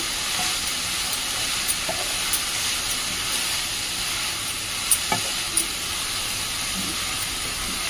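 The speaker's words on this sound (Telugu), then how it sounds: "ఈ పసుపు వేసేసి తిప్పేసి మూత వేద్దాం." Red amaranth stir-fry with salt and turmeric sizzles steadily in a pan, with a few sharp scraping clicks from stirring rising above the continuous frying hiss; no one talks.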